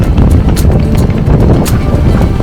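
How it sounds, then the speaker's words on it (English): Strong gusts at sea on a sailboat in rough conditions roar loudly and continuously across the microphone, with no pause in the buffeting. "Gusts are just pummeling us."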